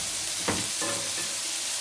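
Butter sizzles steadily in a hot pan as the first step for simple beans, a constant frying hiss with a brief stir or scrape near the middle and no talking.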